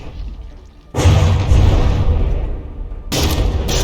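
Heavy explosions from battleship turrets in a From the Depths tournament battle: a loud boom hits about one second in and rumbles on, then a second heavy blast follows near the end, with no talking.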